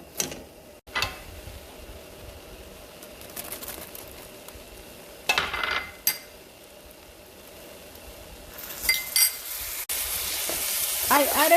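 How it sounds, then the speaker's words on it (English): Rice, onion and garlic frying in a pan give a soft continuous sizzle, with scraping and clinks from a spoon stirring now and then, and the sizzle swells louder toward the end. "this is when I like to add the onion and the garlic, so it starts frying a little bit"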